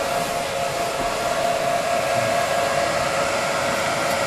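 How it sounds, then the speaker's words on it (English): Steady, loud whooshing fan roar with a constant tonal hum from IBM x3950 rack servers running at full speed nearby. "IBM servers, and boy are they loud."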